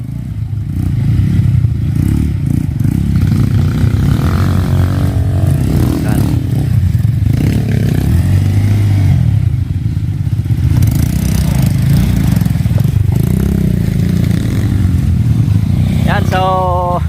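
A motorcycle engine rumbles loudly and continuously, revving unevenly over a rough hard dirt trail with rattles and clatter, and voices talk over it in Filipino.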